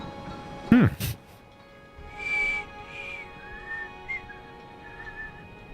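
A character in Dishonored 2 attempts to whistle, producing a few short, airy, wavering whistle tones that falter, heard faintly over quiet game ambience after a brief louder burst near the start.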